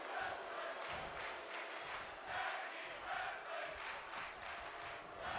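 A wrestling arena crowd in WWE 2K23 cheers and roars steadily at low level, with swelling waves of noise throughout.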